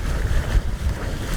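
Wind blows steadily over a sailboat at sea near the San Blas Islands, a dense low rumble of gusts and water wash with buffeting against the microphone and no voices.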